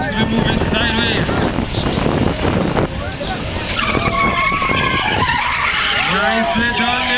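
A Toyota race truck slides sideways at a dirt racing event, its engine roaring and tires skidding loudly and continuously, with the engine note rising and falling as it slides, and crowd and announcer voices underneath.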